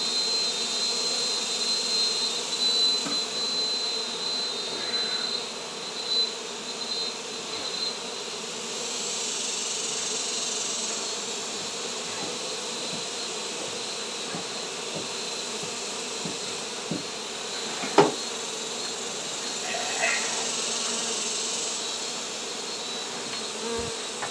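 A dense, steady buzz from a swarm of honey bees at an exposed hive during removal work in hot, humid San Benito, Texas, droning continuously with a few individual bees zipping close past the microphone.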